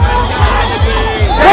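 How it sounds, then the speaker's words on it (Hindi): A huge crowd at a Ram Navami rally makes a dense, loud roar of voices and chatter close by. Drums or amplified beats pulse steadily underneath. "हम कह सकते हैं कि लाखों की संख्या में यहाँ भीड़ उमड़ी हुई है।"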